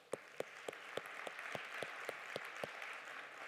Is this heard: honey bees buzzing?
no